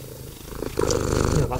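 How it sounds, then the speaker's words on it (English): A pet cat purrs close up in a steady rumbling drone that grows louder partway through, while a person speaks softly to it. "Hey, kitty."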